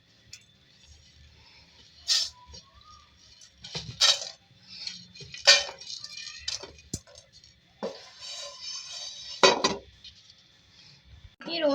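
Small cardamom pods and cinnamon pieces roasting in a pan, with scattered light clinks and taps of spoon against metal arriving in irregular bursts over quiet background, and a voice talking at points.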